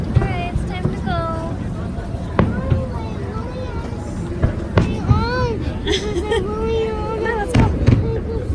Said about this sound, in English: Hi, fireworks.